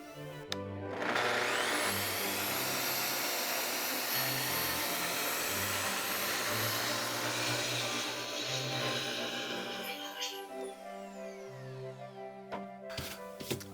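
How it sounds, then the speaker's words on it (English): A track saw spins up and cuts along the edge of an MDF panel, trimming the overhang on a handmade board game, a loud sustained whining roar for about ten seconds that winds down as the blade stops. "I'm gonna try to use my track saw and just run it along the edge here"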